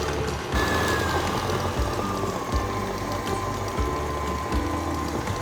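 An electric stand mixer creaming sugar for vanilla cupcake batter runs with a loud, steady motor whir and a rhythmic knocking churn that repeats roughly every second, close by and without talk.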